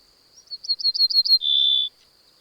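A wild bird in a nature field recording gives a quick series of about six high, clear chirps followed by one longer sustained whistle-like note, close and loud against a silent background.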